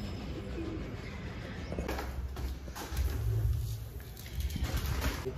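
Colourful pet pigeons coo softly in low, murmuring calls, with some faint rustling and background noise around them.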